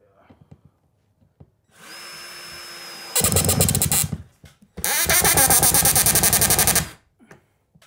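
A power drill drives screws into roof boarding. A low motor hum comes first, then two loud, close bursts of whirring and grinding, one short and one longer, with quiet gaps of handling noise between them.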